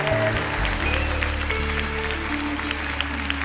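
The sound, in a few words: audience applause for Jesus at a church conference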